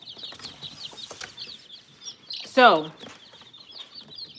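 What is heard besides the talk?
day-old quail and chicken chicks in a box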